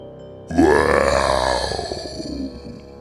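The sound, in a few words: burp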